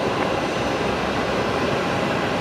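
A Kalitta Boeing 747 jet taking off at Brisbane Airport, heard as a broad, steady roar of jet engines that holds at an even loudness for the whole short stretch.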